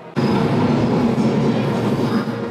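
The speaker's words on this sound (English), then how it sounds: "There's a train." A train rumbles past nearby, a loud, steady roar of rail noise with wheel clatter that starts abruptly and holds at full strength, with no talking over it.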